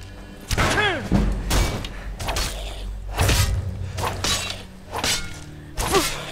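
Gunshots in Skyrim with the Game of Thrones mod, a string of sharp, loud cracks spaced irregularly over a few seconds amid battle noise and brief whooshing effects.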